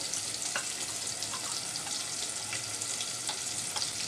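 A paste of turmeric, red chili powder and salt frying in a pan, a steady close hiss of sizzling oil with occasional faint stirring clicks, continuous and even throughout.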